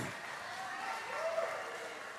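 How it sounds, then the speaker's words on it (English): Audience applause for Spooner House at a church colour showdown contest, a steady wash of clapping and crowd noise filling the hall throughout with no clear pauses. "Another round of applause for Spooner House."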